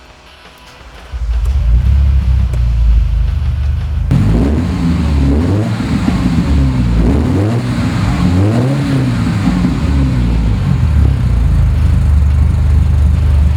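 A 1985 Ferrari 308 engine cranks and fires up, then settles into a loud, throaty running rumble with occasional revs rising and falling.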